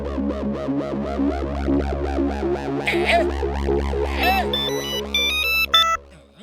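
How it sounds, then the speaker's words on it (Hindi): A phone's electronic ringtone chimes repeatedly over a droning musical backing, with warbly synth tones building toward the end, in a Motu Patlu cartoon. "पप्पू सुपारी को फोन लगाओ।"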